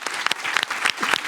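A short, close burst of clapping from a small group, a brief scatter of hand claps with no cheering, a voice faintly underneath.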